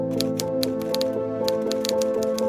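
Rapid mechanical typewriter keystrokes clatter in an uneven rhythm over a steady tonal music bed, close and loud, as someone types up leaflets.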